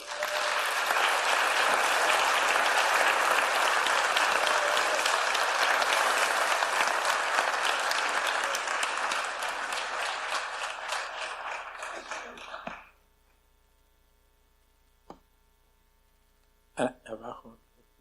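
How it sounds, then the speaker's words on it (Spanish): A church congregation applauds loudly and steadily for about thirteen seconds, then stops abruptly, leaving near silence broken by a few faint knocks and a brief clatter. "Denle un aplauso al Señor."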